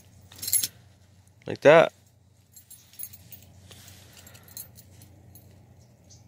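Metal keys on a key ring jangle in two short bright bursts while a work nametag is attached, followed by softer clinks, with a person speaking briefly nearby.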